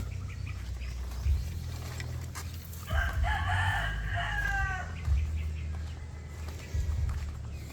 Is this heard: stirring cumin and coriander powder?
no